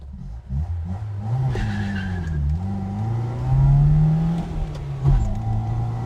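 A Lada 2103 pulling hard on a straight road, its engine droning steadily as it climbs through the revs, heard loud and close from inside the car with no talk.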